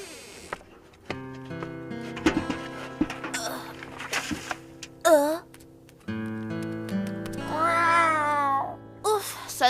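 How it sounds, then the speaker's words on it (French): A cat meows a few times in an animated scene, its rising and falling cries standing out over steady background music. "ça n'est qu'un chat"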